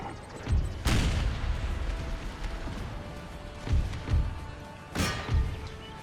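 Cannon artillery fire on a battlefield in the strategy game Empire, with several deep booms and crashing impacts that come in spaced bursts over a continuous din of distant battle.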